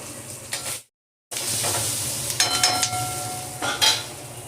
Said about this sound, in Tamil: வெங்காயம் ஓரளவு வதங்கட்டும். ரொம்ப டிரான்ஸ்லூசண்ட்டாக அப்படி இல்லை, கொஞ்சம் வதங்கட்டும்.